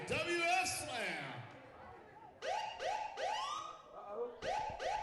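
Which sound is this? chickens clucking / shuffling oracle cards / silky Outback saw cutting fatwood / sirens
sirens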